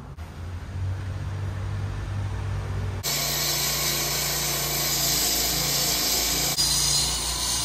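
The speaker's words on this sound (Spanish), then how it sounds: "No es cada día, pero menudo taladro." A power drill runs nearby with a continuous whine and hum. The tone shifts sharply twice, as if the load or speed changes, and the sound holds steady and fairly loud throughout.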